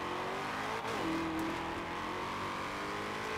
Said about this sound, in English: next up we've got the 2017 Chevrolet Camaro ZL1, fully upgraded and tuned